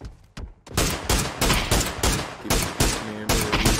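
Rapid bursts of gunfire in PUBG on PC, likely a DMR sprayed on full auto, crack out loud and close in quick repeated volleys that continue with short gaps throughout.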